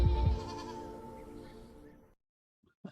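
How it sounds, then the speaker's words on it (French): Goats used for eco-grazing bleat loudly and close for about two seconds in one long, wavering cry, followed by a brief quiet gap and a short faint sound. "on utilise même des chèvres pour faire de l'éco-pâturage"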